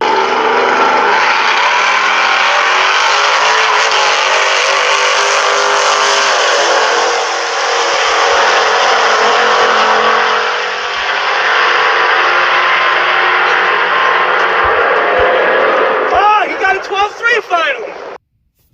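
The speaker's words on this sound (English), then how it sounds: "And I have a lot of fun racing, ripping it up at the drag strip." A 5.7 Hemi Ram roars steadily at a drag strip, its engine note rising and holding loud and close for most of the run before trailing off into sharp fluttering bursts near the end.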